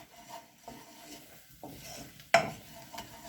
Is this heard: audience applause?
no